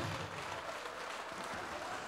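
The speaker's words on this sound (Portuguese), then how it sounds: "E vamos aplaudir ao Senhor Jesus por cada vida que está chegando" Church congregation applauding during a service, a dense, continuous wash of clapping from a large crowd, moderately distant and even throughout.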